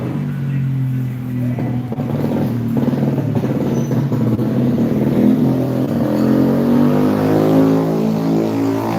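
A motor vehicle passes along a quiet provincial road at night, its engine drone rising and swelling as it approaches, loud and close by the end, with no talking.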